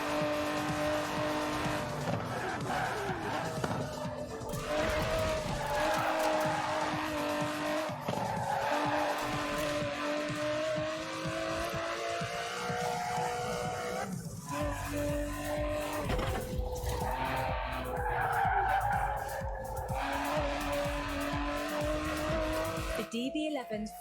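An Aston Martin DB11 in Forza Horizon 4, its engine droning loud and steady the whole time with rising and falling revs and bursts of tire squeal, under a narrator's voice.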